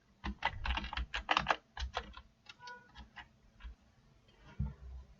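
Code is typed on a computer keyboard while a hunting game's weapon system is being programmed in Unity: close, fairly quiet clusters of rapid key clicks in uneven bursts, thinning out toward the end.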